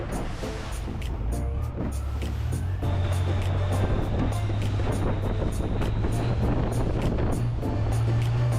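A private tour boat cruising along the river in Bangkok, its engine rumbling low and steady throughout with water wash and wind buffeting the microphone, with no talk.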